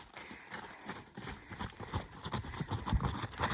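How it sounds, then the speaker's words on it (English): Horses walking past on the Camino trail, hooves clip-clopping in an uneven, overlapping rhythm that grows louder as they near, outdoors on a sunny day. "Here comes the horses."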